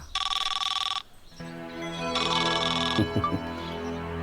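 A telephone rings in two electronic bursts separated by a short pause, loud and close, with a low hum and brief rustling between.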